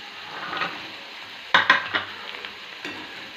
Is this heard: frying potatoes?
yes